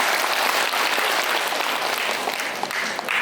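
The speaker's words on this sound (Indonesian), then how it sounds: "Tepuk tangan untuk ibu semua." An audience at a fish-processing training event claps loudly and steadily throughout, a dense burst of applause with no voices over it.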